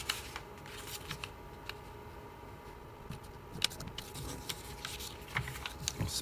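Origami paper being creased and folded for an iso-area flasher model, with soft intermittent crinkles, rustles and sharp creasing snaps close by in a quiet room.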